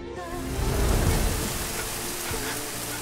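Steady rain pours over a surface with broad hiss and some low rumble, continuous and fairly loud, with no voices.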